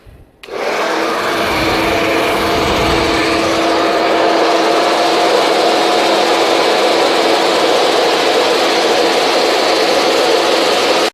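Hair dryer on full heat and full speed blowing close down a section of hair through a brush, starting abruptly and then roaring loud and steady alone.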